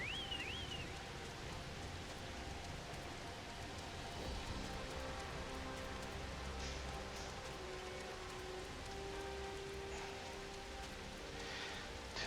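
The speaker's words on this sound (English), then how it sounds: "This might be the first time I've seen it rain in here." Rain falls steadily throughout a scene in Final Fantasy XIV, a soft, constant hiss of drops with faint game tones over it.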